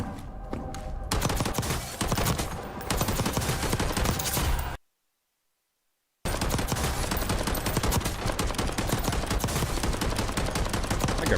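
Dense gunfire from a Call of Duty video game, rapid continuous shots and game noise, loud and close, cut by a sudden gap of silence before the firing resumes.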